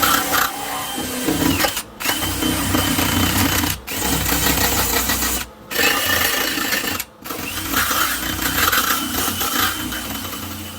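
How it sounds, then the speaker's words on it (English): A power drill boring holes into the metal heater channel of a 1955 VW Oval Beetle under restoration, a loud continuous whirring grind broken by four short pauses between holes, no talking. "So I have to drill here some holes. Let me take my my drill."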